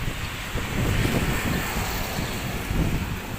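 Steady wind at Manila Bay blasting across the microphone, a loud continuous rumbling roar with gusts rising and falling, no voices.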